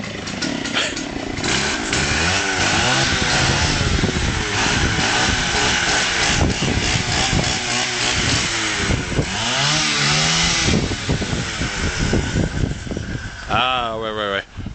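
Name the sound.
brush cutter engine starting and running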